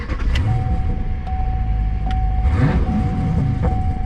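A V8 car engine rumbles steadily nearby, a deep, continuous loud growl with slight swells and a faint whine running through it.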